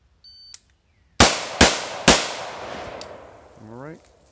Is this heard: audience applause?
no